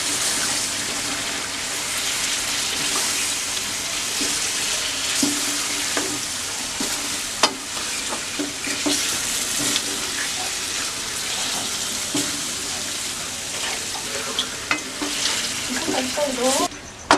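Chicken cooking in ghee and oil in a kadhai gives a loud, steady close sizzle and bubbling, with scattered scrapes and clinks of a spoon stirring throughout, and a voice speaking faintly at times.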